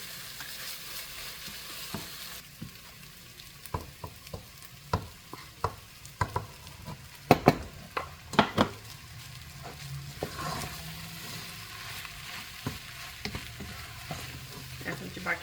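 Quinoa is stirred and mixed in a pan over medium heat with a steady low sizzle, while a spoon scrapes and taps against the pan in scattered sharp knocks, busiest in the middle.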